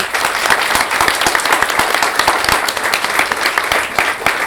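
Applause from an audience at a book presentation in a film museum, a dense, steady patter of many hands clapping close by, sustained at even loudness throughout.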